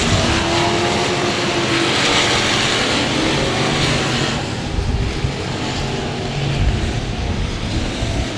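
Race cars roar around a track during a Super Saturday 200 race, a dense, loud wash of engine noise from several cars passing, steady and continuous with a slight dip midway.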